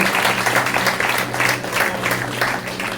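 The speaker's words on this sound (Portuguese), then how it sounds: "Pode aplaudir o Senhor mais forte, aleluia." A church congregation at a conference applauds loudly and continuously, with swelling waves of clapping over a low hum.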